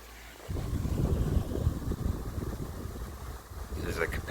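A 1991 SunStar SLQ-16 pedestal fan with a capacitor-run PSC motor whirs steadily at close range after a brief quiet start, with a soft airy hum and faint rattling rising near the end.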